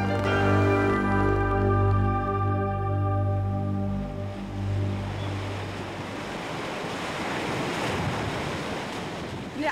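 The Truckee River in flood rushes through Sparks, Nevada, during the historic 1997 flood, a broad roar of turbulent water with a low droning tone early on and gusts of wind buffeting the microphone.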